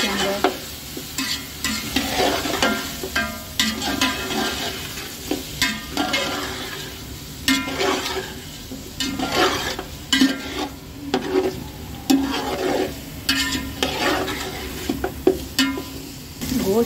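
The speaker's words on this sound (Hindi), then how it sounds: "अब हम इसमें डालते हैं गोश्त को हम अच्छी तरह भून लेंगे इसके अंदर" Beef pieces fry in a pot of oil for pulao, loud continuous sizzling broken by rhythmic scraping and clattering of a spoon stirring the meat close up.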